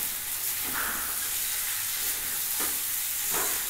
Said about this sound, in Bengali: হালকা একটু ফ্রাই করতে দিয়েছি, গ্যাসটা আমি একটু কমিয়ে হালকা হাতে ভাজা ভাজা হোক